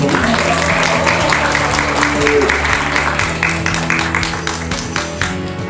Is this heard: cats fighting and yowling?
no